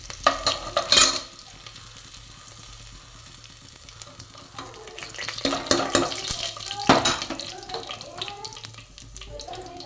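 Cumin seeds and curry leaves fry in hot oil, a steady crackling sizzle with brief stirring clatters and bursts of louder spitting, heard up close and alone.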